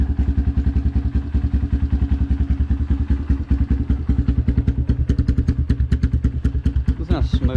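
A small 150 dirt bike engine starts and chugs steadily with a rapid, even putter, running close and loud, then revs briefly near the end.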